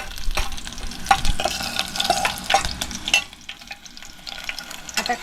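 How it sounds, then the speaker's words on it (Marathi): Curry leaves crackle and spit in hot oil for a tempering, a close, busy sizzle with sharp pops and a few utensil scrapes. The crackling fades to a softer fry toward the end. "कढीपत्ता टाकल्यानंतर असं कर्रकन फोडणी उडाली तेल उडालं"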